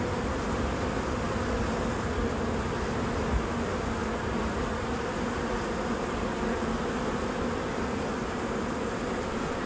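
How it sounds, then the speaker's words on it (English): A dense, steady buzz of many honeybees being poured from a package box into a hive fills the whole stretch, loud and close, with no pauses and no voices. "pouring the bees out of the box and into the hive"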